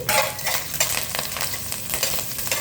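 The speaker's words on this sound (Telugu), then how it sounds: "కొంచెం శాతం పోపు అయితే వేగాలి. కాస్తంత గోల్డెన్ కలర్ వచ్చేదాకా." Spice tempering with crushed unpeeled garlic and curry leaves frying in oil for a beetroot fry, a steady close crackling sizzle broken by repeated scraping stirs of a spoon against the pan, with no voices.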